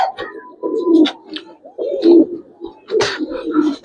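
Giribaz and coloring pigeons coo on a pigeon farm, giving several close, throaty calls in uneven bursts with short chirps between them.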